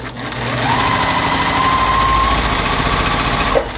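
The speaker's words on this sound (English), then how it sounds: "And then we'll go ahead and sew those." A sewing machine chain-stitches pieced nine-patch quilt squares, a steady close motor whir running for a few seconds without a break.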